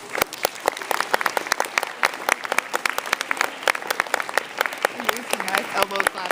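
An audience in a chapel claps with their elbows, producing a dense patter of soft, quick knocks that runs steadily throughout while people talk over it.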